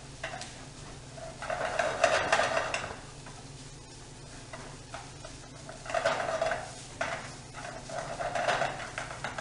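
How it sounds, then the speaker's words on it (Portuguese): Pre-cooked risotto rice sautéing in a pan, with soft stirring scrapes and metallic clinks of a utensil against the pan in two busier bursts, fairly quiet and without talk. "Deixa ele refogando por 3 minutos."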